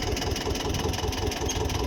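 A tractor engine runs steadily while towing a seed drill sowing wheat in a field, its low mid-pitched drone continuous and fairly close throughout, with no talk.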